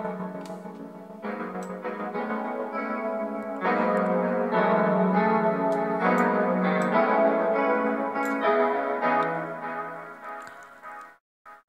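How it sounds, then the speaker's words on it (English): Layered synth and keyboard notes run through an MPC Beats return channel as its delay effect is turned up, sustained tones smearing into echoing repeats that swell louder midway, alone without talk. "So the more I turn it up, the more delay it got."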